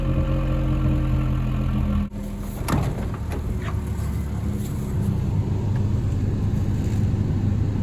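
Car engine idling steadily after a cold start during a hard freeze, a constant low drone near the microphone broken by a brief thump partway through.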